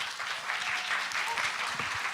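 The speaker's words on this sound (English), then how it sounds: "Can we have a round of applause for the whole panel?" An audience at a literature festival panel discussion applauds the whole panel, a steady wash of many hands clapping together, fairly soft and even throughout.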